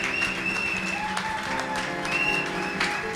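A church congregation claps steadily in thanksgiving to the Lord, a sustained wash of applause filling the room with a few voices faintly beneath it.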